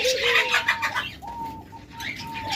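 A caged diamond dove coos in a bird shop, drawn-out mellow notes repeating close by against faint background chirps from other birds.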